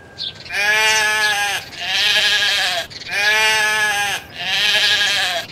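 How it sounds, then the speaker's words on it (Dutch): A sheep bleats loudly four times in a row, long wavering baas with short pauses between, close by and with no voices. "Goed geraden, het is het schaap."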